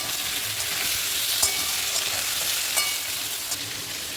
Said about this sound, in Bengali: আলুটা ভাজার জন্য অল্প করে একটু নুন আর অল্প একটু হলুদ দিয়ে আলুটা আমি লাল করে ভেজে নেবো